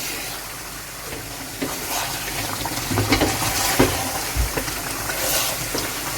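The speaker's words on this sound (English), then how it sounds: "Then stir my soup." Egusi soup is stirred in a pot, giving a low, continuous bubbling simmer with soft irregular scrapes and knocks of the spoon against the pot.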